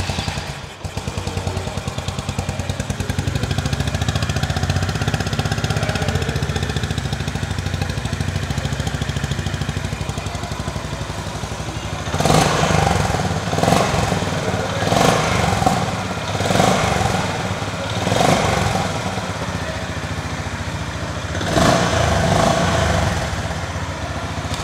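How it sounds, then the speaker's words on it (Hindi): A Honda H'ness CB350 single-cylinder motorcycle idles close by with a steady, deep thumping exhaust note. Partway through, several sharp revs swell and fade in quick succession over the idle. "बट एग्जॉस्ट नोट चलिए मैं आपको एक बार सुना दे रहा हूँ, इसके एग्जॉस्ट नोट में ना काफ़ी ज़्यादा थंप है।"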